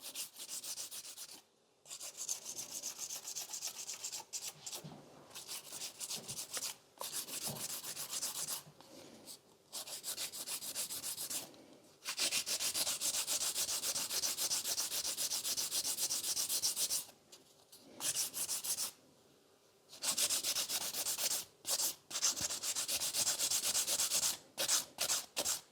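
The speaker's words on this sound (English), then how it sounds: "when you're filing those kind of extreme shapes" A nail file rasps back and forth while shaping sculpted stiletto nails to a point, close and distinct, in rapid bursts of scratchy strokes separated by short pauses, with no talking.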